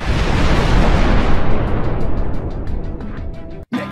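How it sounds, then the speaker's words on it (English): A loud, sustained cartoon explosion from a Roblox Piggy animation roars as a dense, rumbling blast that slowly fades over several seconds before cutting off abruptly. "and Willow blows up"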